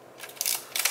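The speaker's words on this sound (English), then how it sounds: "So what is happening when you fire the shutter" A Vivitar V4000S 35mm film camera shutter being fired up close during a repair, giving a few sharp mechanical clicks and whirring snaps in quick succession, each a bright, brief burst.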